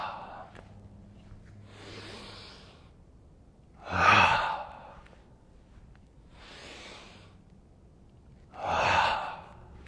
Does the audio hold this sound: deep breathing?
yes